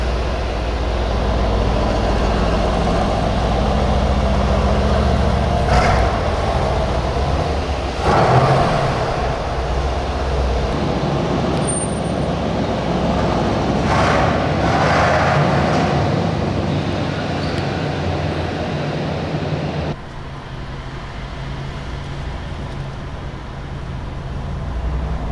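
A 2020 Mercedes-AMG C63 S Coupe drives through a city at night, heard from inside as a steady loud engine drone and road rumble that shifts slightly as it changes speed, with no talk.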